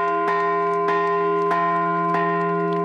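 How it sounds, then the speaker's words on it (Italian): A church bell forged by the Pontificia Fonderia Marinelli of Agnone rings out in steady, evenly spaced strikes, about five in three seconds, each with a long humming ring that overlaps the next and fills the clip. "Una campana forgiata dalla Pontificia Fonderia Marinelli di Agnone è stata donata alla città di Milano."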